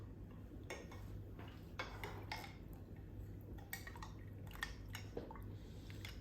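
A spoon stirring dry yeast into warm water in a bowl, bright repeated clinks and scrapes in an irregular rhythm over a low steady hum, close and fairly quiet with no voices.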